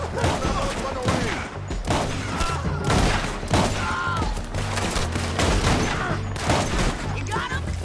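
Dense, sustained artillery and rifle fire in the Red Dead Redemption 2 video game, with repeated booms and crackling gunshots throughout, a steady loud battle din with shouted voices mixed in.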